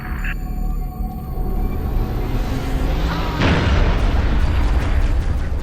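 An artillery fire mission in Halo: Reach strikes with a loud explosion at about three and a half seconds, sending up a broad burst and rumble that rises out of a dense, steady battlefield din.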